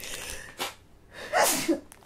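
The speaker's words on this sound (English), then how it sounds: "I'm going to sneeze and I don't have a tissue." A woman sneezes once, close and sharp, after a quick intake of breath, with a little breathing around it and no talk.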